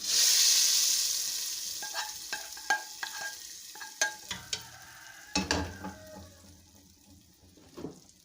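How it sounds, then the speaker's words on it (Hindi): A loud hiss of hot oil tempering hitting cooked lentils bursts out at first, then fades into scattered sizzles and spoon clinks as it's stirred. "इस तड़के को हम दाल के अंदर शामिल करेंगे।"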